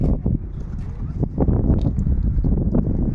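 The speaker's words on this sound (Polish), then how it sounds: "a się jakiś wiatr robi" Wind gusts buffet the microphone outdoors where pigeons are flown, a rough low roar that swells and dips in bursts, close and fairly loud, with faint speech in the background.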